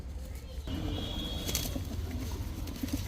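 Pigeons, including a breeding female, cooing softly and repeatedly in a low, rolling rhythm, close by, over a steady background hum with some faint rustling.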